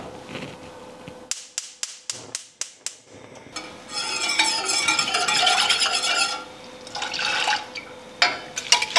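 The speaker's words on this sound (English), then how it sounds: "I'm whisking it to make sure the pumpkin puree is mixed well with the other ingredients" Quick metallic clicks and taps, then a sustained swishing, scraping whisking of a pumpkin latte mixture with pumpkin puree heating in a pot, close up and steady.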